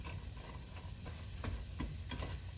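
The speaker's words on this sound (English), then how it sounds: "I'm just going to start frying off the half an onion, which I've diced up as finely as I sort of could" Half a finely diced onion frying in a pan, a soft steady sizzle at close range with occasional light stirring scrapes and taps.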